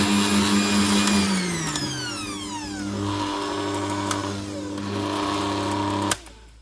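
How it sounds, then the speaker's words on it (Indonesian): An electric mixer whipping egg whites to medium peaks for a coffee mocha chiffon cake, a loud steady motor whine that drops in pitch as it slows, then cuts off abruptly near the end. "Putih telurnya jangan dikocok sampai kaku banget, tapi sampai medium peak kayak gini, masih soft ya."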